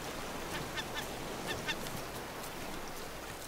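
A few short, faint seagull squawks in the game Raft sound over a steady hiss, spaced irregularly in pairs and singles.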